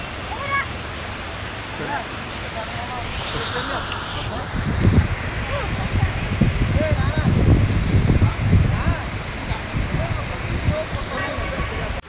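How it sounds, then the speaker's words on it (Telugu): At Koheda Waterfalls near Hyderabad, a steady rushing roar of falling water fills the scene, with wind buffeting the microphone and a person talking over it at times. "ప్రజెంట్ వాటర్ ఫాల్ ఎక్కడ నుంచి పడుతుందో"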